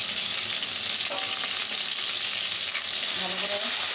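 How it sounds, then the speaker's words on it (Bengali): Onion and ginger paste frying in a pan for ghugni, a steady close sizzle with faint stirring scrapes and no voices. "যতক্ষণ না লাল হচ্ছে না ততক্ষণ এটাকে ভাজতে থাকবো।"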